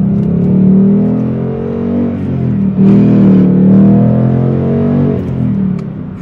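A Ford Mustang GT's engine roars loudly under light acceleration, with a deep exhaust note rising, briefly dropping, then surging again.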